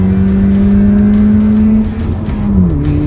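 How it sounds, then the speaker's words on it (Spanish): A Ford Fiesta ST revs hard while accelerating in second gear, its engine drone loud and steady before the pitch drops at a gear change, with road and wind noise throughout. "Vamos a escuchar el sonido del vehículo"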